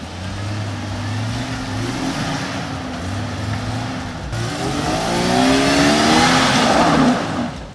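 An old Jeep Cherokee with solid axles churns off-road through mud, its engine droning and then revving harder and climbing in pitch near the end, loud and close with no speech.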